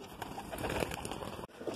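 Green Madrasi pigeons coo softly in their loft, a faint, close burble of repeated low calls with a brief dropout partway through.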